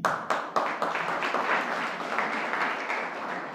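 An audience at a college literary society inauguration claps in a brief burst of applause, sharp at first and then settling into steady, moderately loud clapping, no speech over it.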